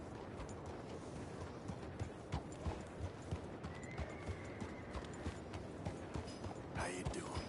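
Horse hooves clip-clop in a steady rhythm with an occasional neigh in Red Dead Redemption 2, heard over a constant game backdrop while a voice talks.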